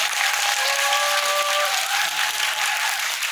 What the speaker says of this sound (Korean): 촬영 감독님께 박수를 다시 드리겠습니다